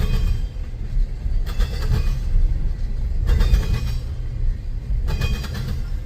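Two CSX freight trains pass each other east of North Baltimore, Ohio, with a steady heavy low rumble and rolling clatter of railcars, and three periodic brighter bursts of wheel-on-rail noise as cars go by nearby.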